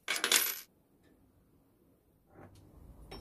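Small metal Allen keys set down on a Draper WTL330A mini wood lathe give a brief jangling clatter, followed by quiet and a faint rustle of handling near the end.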